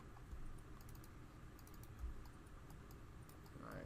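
A computer mouse gives faint, quick pairs of sharp double clicks during 3D drone modeling work, over a low steady room hum.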